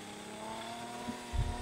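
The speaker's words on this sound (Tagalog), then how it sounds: "ayan nga po pala ang grass cutter na aking ginagamit. 2-stroke po pala ang kanyang engine." A 2-stroke grass cutter engine runs at a steady idle-like drone with tonal buzzing harmonics, close by in an eggplant field, with a low thump near the end.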